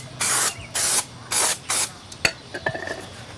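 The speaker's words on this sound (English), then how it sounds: "we're going to clean them with some brake parts cleaner" Brake parts cleaner is sprayed onto turned-down brake rotors from a 2002 Saturn SL in four short hissing bursts, followed by a few faint clinks and taps, close and alone.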